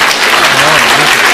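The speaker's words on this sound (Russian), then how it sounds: "несмолкающие аплодисменты зрительного зала" Audience applause in a theatre hall at a team quiz game, dense loud clapping from a full crowd throughout this short burst.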